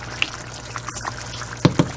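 Kerala-style beef curry with yam simmers in a pot, giving a low liquid hiss and then a few thick bubbling pops near the end.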